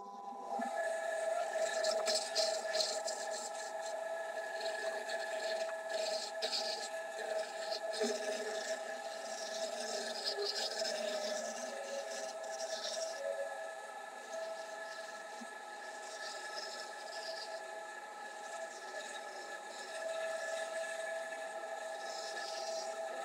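A wood lathe turns a plum wood pen blank held in a chuck with a live center, rounding it down. A steady, loud grinding scrape with a whining hum runs continuously and up close.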